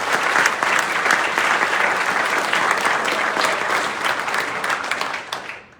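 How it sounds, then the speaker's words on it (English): A large audience at the 2022 Billings Clinic nurse award ceremony claps warmly and steadily, with the dense applause lasting several seconds before it thins and fades away. "A round of applause for families."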